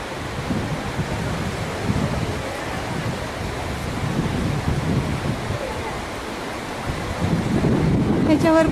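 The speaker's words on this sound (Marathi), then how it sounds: "ती जी वाहते नदी ती तीर्थन आहे" The Tirthan River rushes through the Tirthan Valley in Himachal Pradesh, a loud, constant broadband roar of flowing water with wind noise, steady throughout.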